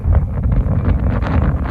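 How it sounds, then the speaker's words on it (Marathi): Strong wind before the first monsoon rain buffets the microphone in loud, continuous low rumbling gusts with a faint rustle on top, close and unbroken. "वारा खूप सुटलेला आहे"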